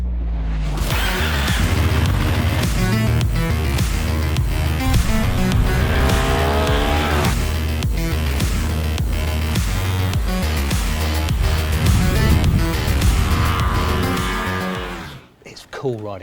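A Ducati 1299 Panigale R Final Edition superbike on an open road, its engine loud and close and revving hard through the gears for most of the ride before fading near the end.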